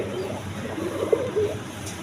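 Pigeons of assorted colored breeds coo softly in a market setting, gentle repeated throaty calls over a steady low background murmur.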